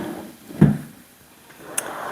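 A drawer slides open with one dull thump, followed by faint clicks, in a quiet sewing workshop where tools and stationery are kept.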